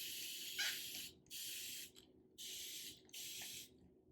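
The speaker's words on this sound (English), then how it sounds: "Definitely spraying those ends really good" Pump spray bottle misting the ends of curly hair in four short bursts, each a crisp close hiss of roughly half a second with brief pauses between.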